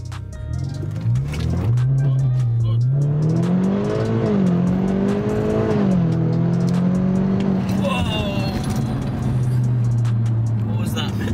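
A BMW F30 330e hybrid, tuned to Stage 2 at 400 BHP, launches from 0 to 60 with traction loss; engine pitch climbs and shifts through gears, loud and close, while people talk over it.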